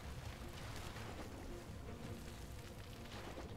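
A boat in the video game Far Cry 2, a faint, steady low engine drone mixed with water wash and wind noise, continuous and without voices.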